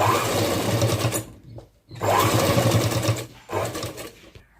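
An electric sewing machine stitches a long frock in three steady, humming runs separated by short pauses, close and loud.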